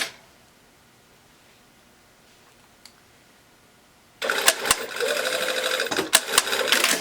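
A domestic sewing machine stitches a short run along the fold line of a jacket lining vent. After a quiet start it runs loud and close in one continuous burst for about three seconds, with small pauses and changes in speed.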